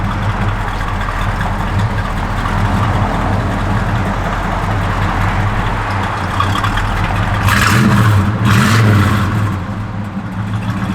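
A 1972 Chevrolet Malibu's engine idles with a deep, steady rumble, then revs up in two quick blips that rise and fall before settling back to idle.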